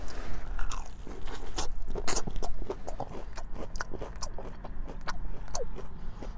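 Crunchy honey chicken wings being bitten and chewed up close, a steady run of loud, crisp crunches and wet mastication with no talking.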